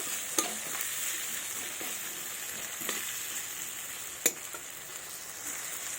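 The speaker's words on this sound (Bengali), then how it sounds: "এবার পেঁয়াজগুলো লাল লাল করে ভেজে নেব" Chopped onions fry in oil until browned, giving a steady, fairly quiet sizzle with a few sharp clicks and pops from stirring, continuous throughout.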